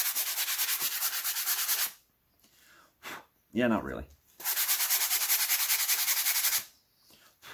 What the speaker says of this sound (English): I've got these sanding blocks.